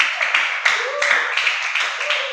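Classroom of students clapping for a group after their presentation, a short burst of close, fairly loud claps with a raised voice briefly mixed in.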